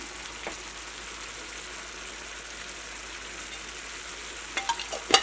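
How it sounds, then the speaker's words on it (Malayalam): Mushroom curry is stirred in a pan over the heat, a steady low sizzle and soft scraping that ends with a few close clinks of the spoon against the pan. "നമുക്കൊന്ന് ഇളക്കിയിട്ട് നമുക്ക് മൂടി വയ്ക്കാം"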